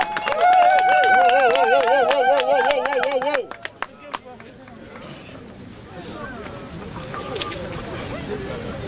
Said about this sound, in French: est-ce qu'on peut applaudir pour nous-mêmes